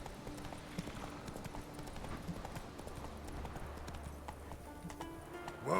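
Roach the horse clip-clops at a walking pace through the woods in a video game, a quiet, even rhythm of hooves under soft ambient sound and a brief snort near the end.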